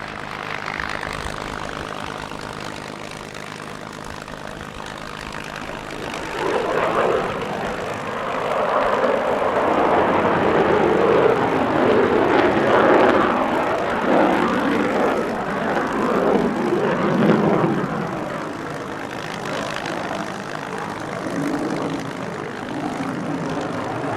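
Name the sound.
propeller warbird aircraft flying at airshow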